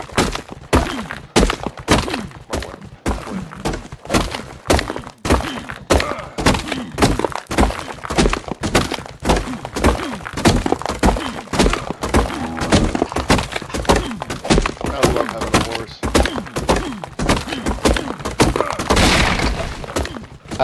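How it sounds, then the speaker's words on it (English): In the video game Ark Ragnarok, stone is gathered with a rapid, steady run of hard thunking, cracking strikes, loud and close and continuing without pause. "So I'm gonna grab a little bit of stone."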